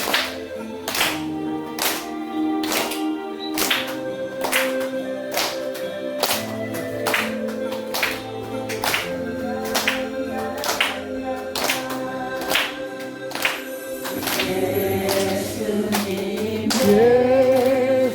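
A church congregation claps in a steady rhythmic beat along to the hymn "Jesus Arirang," sharp regular claps over singing and accompaniment, with the song swelling louder near the end.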